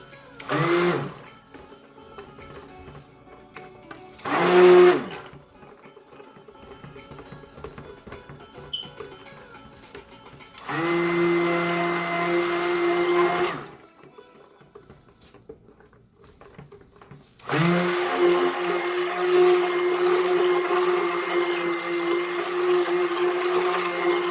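A blender whirs in bursts as it mixes cold-process papaya soap, with short pulses early and then longer steady runs, each a loud motor drone with a fixed tone, separated by quiet pauses.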